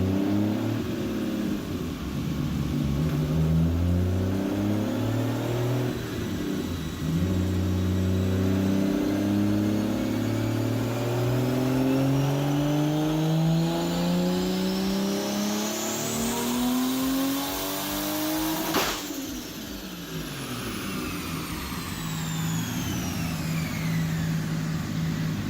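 A Nissan Skyline R34 with a 2JZ engine runs on a dyno at a national speed shop in Wilmington, North Carolina, its engine rising through the revs in long, steady pulls before cutting off sharply, loud and close.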